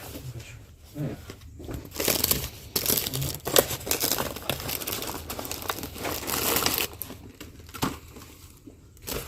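A grocery package is unpacked with loud, close crinkling and rustling of plastic wrapping in irregular bursts, with faint voices in the background.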